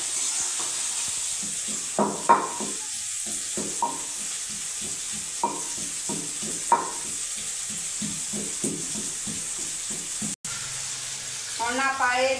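Spice tempering for a Punjabi potato and chickpea curry roasts in a hot pan, giving a steady faint sizzle broken by repeated sharp scrapes and taps of a stirring spoon, with a brief fuller burst near the end.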